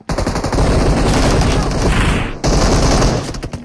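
Sustained automatic gunfire in the PUBG Mobile battle-royale game, loud, rapid bursts filling the clip with a brief break near the middle before firing resumes.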